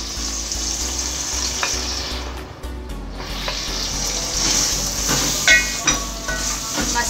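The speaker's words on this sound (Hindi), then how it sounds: "मसालों को भूनना है" Beef frying with spices in a pan for Hyderabadi beef tahari, a steady close sizzle with occasional stirring scrapes and a brief dip in the frying hiss.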